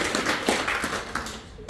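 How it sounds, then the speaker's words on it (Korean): Congregation in a church clapping their hands during a Sunday service, a steady stream of overlapping claps heard at moderate loudness, with no talk over it. "우리 박수 한번 쳐주시기 바랍니다"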